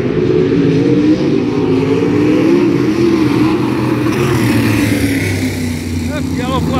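Race cars on the oval at Black Hills Speedway roaring past during a heat race, a loud continuous engine drone that rises and falls with excited talk over it.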